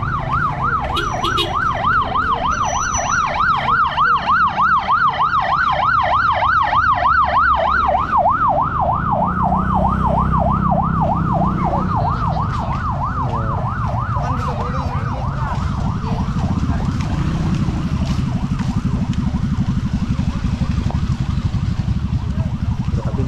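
A wailing ambulance siren with a fast warbling yelp, then a slower rising-falling wail, loud and close amid steady traffic rumble of cars, tricycles and motorbikes in Zambales, Philippines.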